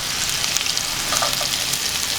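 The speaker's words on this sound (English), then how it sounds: "wait for the onions to get a bit golden brown" Onions fry in a pan for dal tadka with a steady, close sizzle and small crackling pops throughout. No one speaks.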